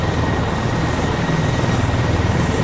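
Helicopter rotor and engine drone close by during a field operation near rocks, a loud constant throbbing wash that runs unbroken with no talk over it.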